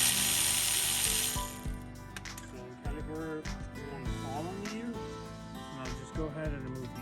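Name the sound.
ratchet removing 14mm caliper bolts on a 2012 Nissan Sentra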